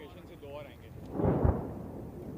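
A second bomb from an air force airstrike detonates as a single deep, booming impact with a brief rumbling tail, mid-distance and fairly loud, briefly rising over steady background noise.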